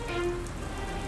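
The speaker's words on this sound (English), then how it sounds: "I think it's going to rain." Steady rain pattering on a surface at the start of a storm in a kids' cartoon, a continuous even hiss with no voices over the short moment.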